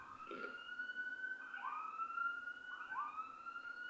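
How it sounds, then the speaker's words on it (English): Siren sound effect played during a livestream, a thin wailing tone that sweeps upward in repeated rising whoops, fairly quiet and alone with no talking over it. "That's the Jacob Draw siren"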